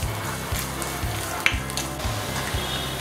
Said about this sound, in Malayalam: നെയ്യ് ചൂടായി വരുമ്പോൾ ഇതിലോട്ട് തേങ്ങാക്കൊത്ത് ചേർത്ത് കൊടുക്കുകയാണ്.